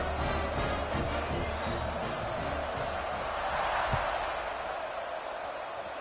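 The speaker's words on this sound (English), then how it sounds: "this crowd is buzzing after that last score" A football stadium crowd keeps up a steady, loud roar and buzz after a score during a Missouri State versus Houston game. The noise is continuous and broad, with one brief thump near the middle.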